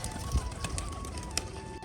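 Pigeons coo softly nearby while perched around a home, the low calls half-buried in steady background noise and a few faint knocks.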